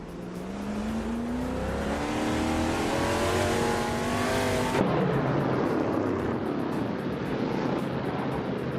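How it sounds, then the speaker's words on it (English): A 1971 Dodge Charger in a racing video game, its engine revving high and climbing through the gears with a sharp shift partway, loud and continuous with a steady rush of other race noise. "Maya is driving a Dodge Charger from 1971, starting in 4th place."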